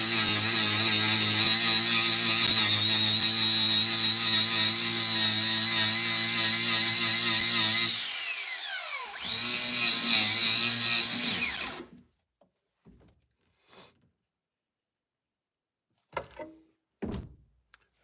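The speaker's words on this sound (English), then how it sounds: "I wish this was a little bit bigger grinder. It works, but it doesn't have enough torque." A small grinder works on a Ford Ranger truck with a loud, steady whine that briefly cuts out, starts again, then stops, followed by a few faint clunks.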